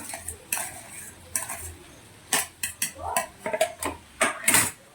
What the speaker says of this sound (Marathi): हे सारण परतून घ्यायचं आहे आपल्याला अगदी एकजीव करायचं आहे